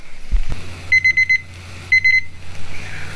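Two short bursts of rapid, high-pitched electronic beeping from a timer alarm, each about half a second of quick repeated beeps, separated by a pause over low background hum.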